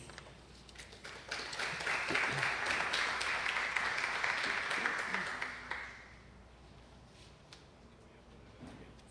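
Audience applause at an academic conference on Colombia's armed conflict, welcoming the first speaker: a broad wash of clapping rising over about six seconds, then fading to a quiet room.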